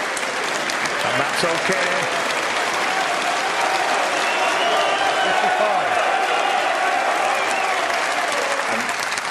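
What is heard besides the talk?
snooker crowd applauding at UK Championship final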